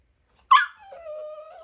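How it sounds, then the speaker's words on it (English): A new puppy confined in a pen inside a car restoration shop gives a sudden sharp yip that trails into a long, wavering high whimper, close and fairly loud, with no talking. "look, we got a new puppy"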